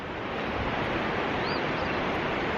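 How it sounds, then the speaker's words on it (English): Steady broadband rush of river water flowing at a crossing on the Appalachian Trail, continuous and fairly close, with no voices over it. "we're just crossing the Untitled River"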